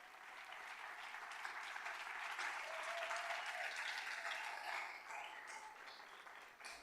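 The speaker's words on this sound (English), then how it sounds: "Big round of applause to all of them." Audience applause at an awards ceremony, a dense, steady wash of many hands clapping that stays loud throughout and eases slightly near the end.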